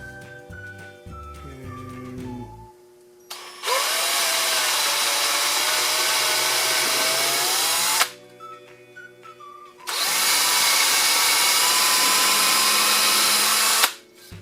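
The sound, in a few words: electric drill drilling holes in wood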